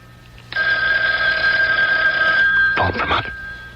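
An old telephone bell in a home rings in one sustained burst of about two seconds, loud and close, followed by a short rattling second ring as it is picked up.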